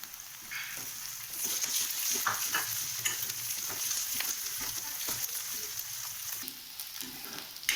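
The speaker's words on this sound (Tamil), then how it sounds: "வெங்காயம் கொஞ்சம் நல்லா வதங்கணும், கொஞ்சமாக வதங்கணும்." Onions and curry leaves sauté in a pan for a spicy South Indian mushroom masala filling, giving a steady broadband sizzle with scattered crackles and occasional stirring scrapes, close and fairly loud throughout.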